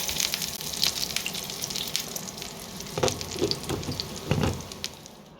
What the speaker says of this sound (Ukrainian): Ось таким чином я їх смажу